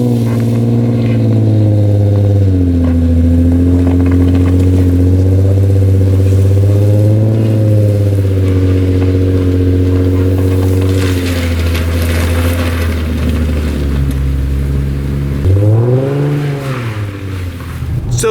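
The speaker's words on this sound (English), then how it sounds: "So now we'll test how this car does with the balding tires and just kind of see the wheel spin" A 2007 Lexus IS 350 on balding tires spins its wheels in snow, with a loud, sustained engine drone rising and falling as the revs climb, with a sharper surge near the end.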